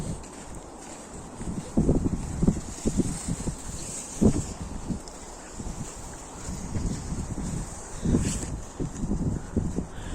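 Strong wind in a heavy snowstorm buffets the microphone in irregular gusts, rumbling and roaring close by with no voices, louder bursts coming and going over a constant hiss.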